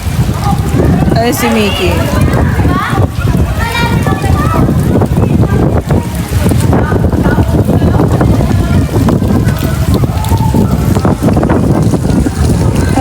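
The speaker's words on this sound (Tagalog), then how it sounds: "Ayun lang, humangin." Strong gusts of wind roar and buffet the microphone without pause outdoors near water, while children and adults talk and shout over it.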